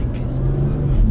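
A BMW 440i Gran Coupé pulls out to overtake, its engine note rising with a steady low hum and whir under someone talking close by from inside the car.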